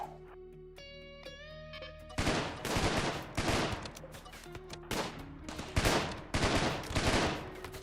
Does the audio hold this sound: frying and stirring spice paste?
no